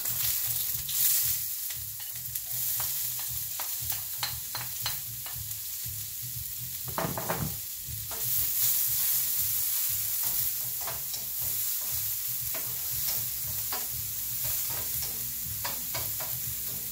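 Onion, garlic and chile fry in a pan for Mexican-style squash with potatoes, giving a steady close sizzle broken by frequent scraping and clinking stirs, with no one speaking.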